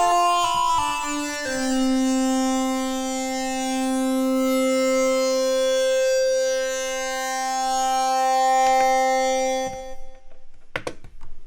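A Modal Electronics ARGON8M eight-voice wavetable synthesizer module plays a sustained, loud droning tone with rich overtones and slowly shifting timbre, ending in a few sharp clicks and glitchy bursts after the note cuts off.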